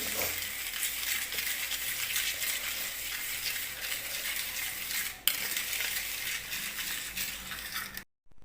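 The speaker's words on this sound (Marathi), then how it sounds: "अशा पद्धतीनं मी या चहाच्या गाळणीने ह्याला एकाच बाजूने छान असं फिरवून घेते." A tea strainer whisks a coffee mixture steadily in one direction, making a continuous close scraping, frothy swish that runs evenly before cutting off abruptly near the end.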